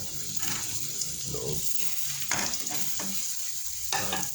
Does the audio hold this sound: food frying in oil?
yes